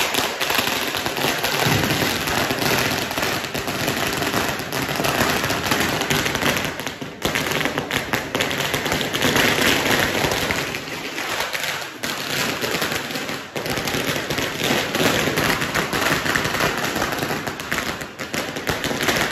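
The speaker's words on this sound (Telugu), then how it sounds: "మా దివాలి బాంబులు చూసారా ఎన్నున్నాయో" Diwali firecrackers crackle in a fast, dense, continuous string of sharp pops and snaps, loud and close, with brief dips in intensity before the rapid bursting resumes.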